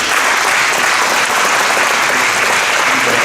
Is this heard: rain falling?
no